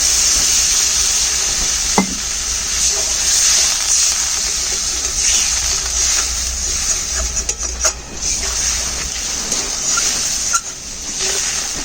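Water poured into a hot pan of sizzling potato curry with nigella seeds and sugar, giving a loud, continuous hiss and bubbling steam with occasional clinks of stirring.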